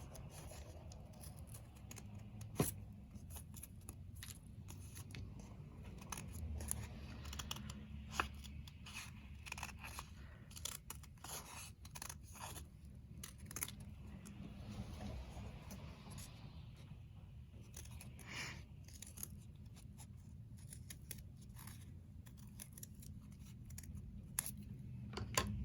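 Scissors taking little snips through construction paper, a quiet, close sequence of irregular crisp snips and paper rustles over a faint background hum.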